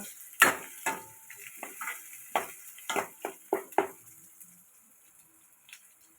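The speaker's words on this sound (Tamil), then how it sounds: "மிளகு பூண்டு நல்லா போட்டு வதக்கிக்கோங்க பச்சை வாசனை போகிற வரைக்கும் நல்லா வதக்கிக்கோங்க" Black pepper and garlic sautéing in a pan, a series of distinct scraping stirs and soft sizzles, close and fairly quiet, tapering off into near silence.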